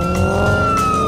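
A car drives fast, giving a loud continuous engine whine with sustained tonal overtones that never let up; no clear tire skid stands out.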